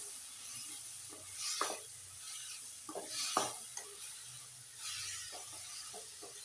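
Dried curry leaves crackle as they fry in hot oil in a pan for homemade tomato chutney, with a steady low sizzle broken by a few sharper pops and stirring scrapes, close and fairly quiet.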